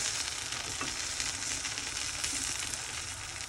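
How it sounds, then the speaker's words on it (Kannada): Jowar rava dosa roasting in oil on a hot pan, a steady dense sizzle that stays loud and even throughout, with no voices. "ಮೇಲೆ ಸ್ವಲ್ಪ ಎಣ್ಣೆ ಹಾಕ್ಕೊಳ್ಳಿ, ಅಥವಾ ಬೆಣ್ಣೆ ಹಾಕ್ಕೊಂಡ್ರೆ ಚೆನ್ನಾಗಿ ರೋಸ್ಟಾಗಿ ಬರುತ್ತೆ ಗೊತ್ತಾ"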